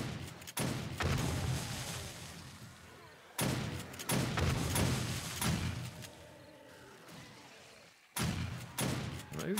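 Turret shotgun blasts and exploding crossbow bolts go off during a zombie horde attack in 7 Days to Die, Alpha 16, as loud booming bursts in three clusters with rumbling tails between them.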